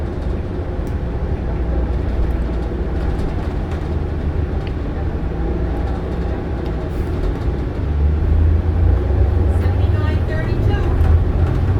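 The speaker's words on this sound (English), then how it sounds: "I like a good noisy bus motor." Inside a moving 2014 New Flyer XD40 transit bus, the rear engine drones in a steady low rumble with road noise, swelling louder near the end, while people talk over it.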